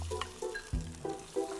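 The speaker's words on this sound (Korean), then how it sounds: "거기에 이제 볶을 거예요." Starch-coated shrimp stir-frying in hot oil, a soft close sizzle with stirring scrapes and a dull knock of the utensil against the pan, fairly quiet.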